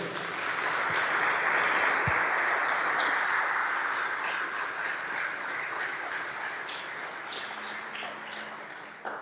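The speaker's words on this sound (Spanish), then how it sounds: "Vamos a darle un fuerte aplauso a Él" A church congregation breaks into applause during a sermon, a broad continuous wash of many hands clapping that stays steady and full for around nine seconds, then eases slightly.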